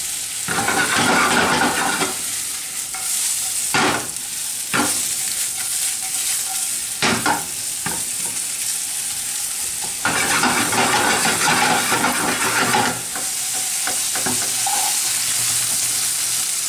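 Oyster mushrooms sautéing in a hot pan, a loud, steady sizzle broken by repeated clattering tosses and scraping stirs, close up with no talk.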